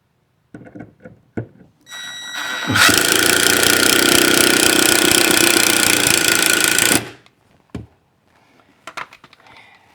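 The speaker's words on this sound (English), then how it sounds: "I screw in right where the stud is, and then I'll level it out" A power drill drives a screw into a wall stud in a garage, a steady loud whir lasting about four seconds before stopping, with brief clicks and handling knocks before and after.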